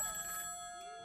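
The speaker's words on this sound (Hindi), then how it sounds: "और फिर फोन बजा।" A telephone rings as a sound effect, giving a single short, bright, sustained tone that fades within about a second, with no talking over it.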